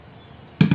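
Noodles dropped into a bowl with egg, for noodle patties, landing as a short pair of soft thuds near the end after a near-silent stretch, close and fairly loud.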